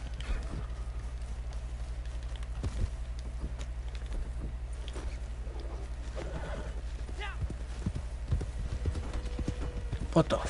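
Horse hooves clip-clop in the Red Dead Redemption 2 online game, a steady rhythmic trot under a low engine-like hum with occasional game noises.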